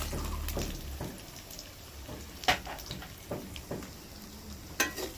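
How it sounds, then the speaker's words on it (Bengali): Chopped onion goes into a hot frying pan and is stirred, producing a soft sizzle broken by several sharp scraping clicks of the spoon against the pan at irregular moments. "এবার দিয়ে দিচ্ছি পেঁয়াজ কুচি"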